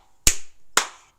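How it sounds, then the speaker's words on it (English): Two sharp hand claps about half a second apart ring out during a house blessing ritual, each clap leaving a short room echo. "you just clap through every space"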